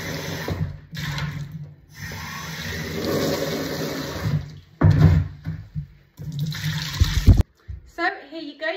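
Water runs and splashes while a bird bowl is rinsed by hand in rubber gloves, a steady close gush with louder sloshes and clunks near the end, and a voice talking over the water for much of the time.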